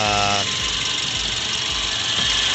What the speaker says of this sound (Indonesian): Jadi kalau kipasnya masih kencang seperti ini berarti bagus